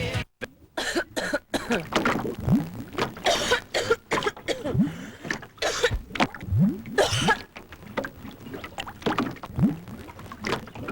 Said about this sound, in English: Cough keeping everyone up?